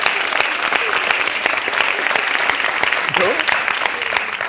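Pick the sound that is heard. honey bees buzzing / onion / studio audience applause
studio audience applause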